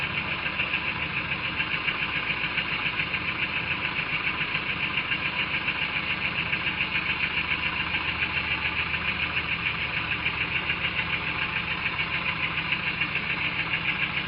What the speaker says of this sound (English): And the engine continued to run.